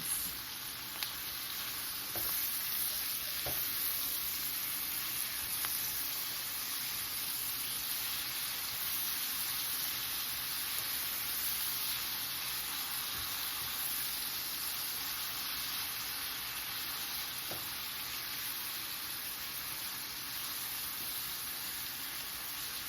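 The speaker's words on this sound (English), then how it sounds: "we're gonna saute them with the onions" Collard greens sauteing with onions in a skillet give a steady, even hiss of frying that holds throughout with a few faint clinks, close and fairly quiet, no talking.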